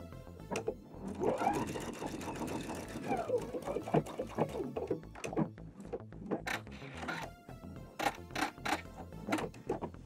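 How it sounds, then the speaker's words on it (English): A sewing machine stitches a chiffon patch along a crease to mend a tear in a printed chiffon dress, whirring in short, quick runs with rhythmic needle clatter and brief pauses, close up. "So we're just sewing right in that crease."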